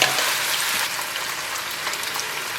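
Linguine for a Sardinian sea urchin pasta sizzles in a pan of hot garlic-infused oil, giving a steady, close, bright frying hiss with a few small crackles and no voices.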